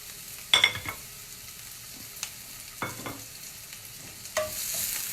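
Onion and spring onion drop into a hot pan, giving a few short bursts of sizzle and stirring scrapes separated by quieter gaps, ending in a steadier hiss.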